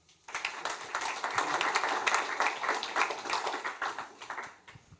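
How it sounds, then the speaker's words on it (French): A conference audience breaks into steady applause that holds for about four seconds, then thins out and fades, with no talking over it. "On peut les applaudir."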